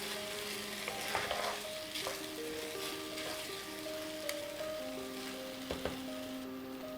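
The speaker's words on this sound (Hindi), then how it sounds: "चावलों को हम 1 मिनट मसालों के साथ ही पकने देंगे।" Rice frying with spices for chicken biryani sizzles steadily in a pan, with occasional sharper crackles and stirring scrapes, while background music plays underneath.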